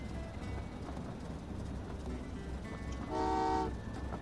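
A single tonal train horn toot sounds in the Train Valley 2 railway puzzle game, lasting about half a second over a steady low background of game ambience.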